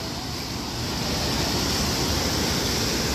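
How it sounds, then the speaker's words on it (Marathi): Forceful flow of the Godavari river at a confluence in Nashik, a steady loud rushing roar of water that swells slightly and holds constant throughout, close by, with no voices. "पाण्याचा फोर्स बघा किती आहे."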